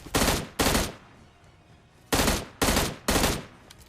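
Gunfire in the mobile shooter BGMI: five loud, sharp shots, two in quick succession, a pause, then three more at an even pace, each with a short tail.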